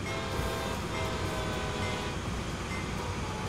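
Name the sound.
train running in a train simulator video game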